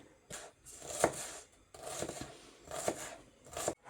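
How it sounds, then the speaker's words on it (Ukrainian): A knife chopping an onion into small cubes on a board in short bursts of quick, crisp taps, pausing between rounds, close and fairly quiet. "Цибулечку нарізаємо на маленькі кубики"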